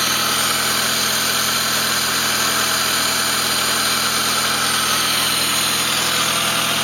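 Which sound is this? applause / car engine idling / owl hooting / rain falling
car engine idling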